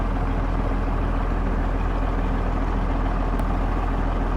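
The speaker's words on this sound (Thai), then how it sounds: "เสียงเครื่องไม่ต้องเร่งนะมันเดินเบาธรรมดานะครับ" A car engine idling steadily, a constant low rumble close to the microphone with no revving.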